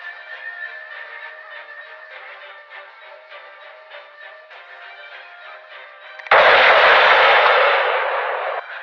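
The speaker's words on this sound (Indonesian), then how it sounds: "Mereka pun langsung menembak ke arah hutan." Gunfire fired toward a forest in the 1993 film Sniper, a sudden loud burst of shots erupting after a stretch of tonal music and then trailing off slowly.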